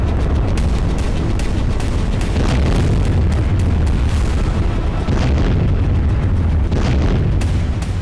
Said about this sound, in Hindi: रूस के चारों राज्यों में ड्रोन के साथ साथ क्लस्टर बम से विस्फोट किया गया।